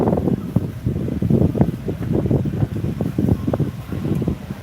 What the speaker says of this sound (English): It just happened to be a really windy day today.